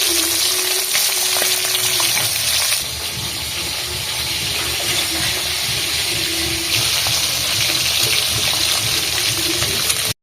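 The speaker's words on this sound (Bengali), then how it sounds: "এখন আমি আলুটা বাইতে নিই, এই আলুটা আর ওই ডিমটা ভেজে নিই।" Potato and egg fry in oil in a pan, a continuous loud sizzle with hissing crackle that holds steady throughout, briefly dipping then resuming, with no talk over it.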